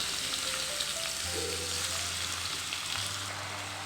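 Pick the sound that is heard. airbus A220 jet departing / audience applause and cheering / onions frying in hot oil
onions frying in hot oil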